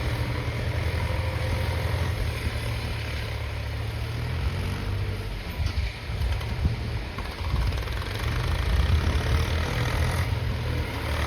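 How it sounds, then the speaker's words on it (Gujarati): A tractor hauling a trailer loaded with boulders labors up a slope, its engine droning steadily and heavily throughout with slight surges, close and loud with no voices. "ટ્રેક્ટર છે ને ભાઈ ક્યારના ચડાવે છે પણ ચડતું નથી."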